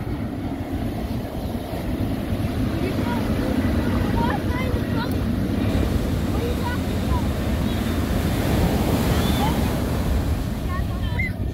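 Ocean waves wash continuously onto a beach in a loud, steady roar mixed with wind buffeting the microphone, while children's voices call out and shout over the surf.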